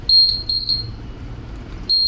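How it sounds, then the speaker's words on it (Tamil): Smart glucose stand with Bluetooth sounding its alarm at a low glucose level: three loud, high-pitched electronic beeps, each short and sharp, the last arriving after a longer pause, close and clear over a quiet background. "ஸோ உங்களுக்கு இங்கே அலாரம் அடிக்கும், உள்ளே அங்கே லைட்டும் உங்களுக்கு ஷோ ஆகும்."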